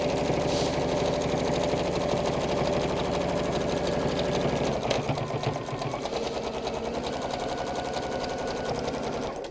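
Sewing machine stitching a seam in fabric for a textile kit, a steady close mechanical whirr with rapid needle chatter running throughout, its tone dropping and roughening slightly midway as stitching continues.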